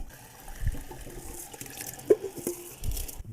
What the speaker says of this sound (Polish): No i uzupełniam wody